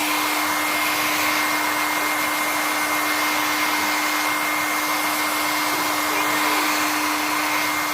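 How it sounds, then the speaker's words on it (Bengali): A handheld hair dryer drying a girl's hair after a bath: a loud, steady blowing roar with a constant motor whine that runs unbroken throughout, with no speech. "এখন এই যে ড্রায়ার নিয়ে আসলাম, মেয়ের চুলটাকে একটু শুকিয়ে দেব ড্রায়ার দিয়ে।"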